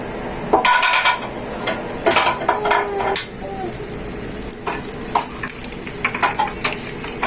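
Poppy-seed gözleme frying in oil on a flat pan, with a continuous close sizzle broken by sharp clinks and scrapes of a utensil against the metal.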